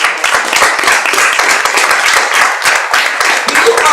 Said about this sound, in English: Keep clapping for yourselves.